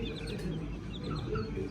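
Hens and little chicks clucking and cheeping close by, soft repeated clucks and high thin peeps over a steady low background hum.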